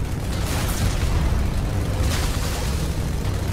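Dense rumbling explosions and battle noise from Halo 2 pound continuously against a tank, a loud, sustained low roar with bursts of blasts and no talk.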